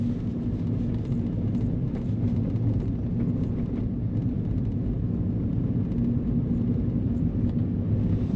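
Steady, low engine rumble from inside a car during a beginner's driving lesson, holding an even drone throughout with no talk.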